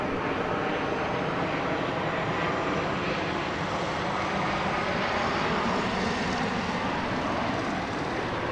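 American Airlines flight 1110 jet at DFW Airport at night, a continuous engine rumble and rush that stays steady and fairly loud from start to end.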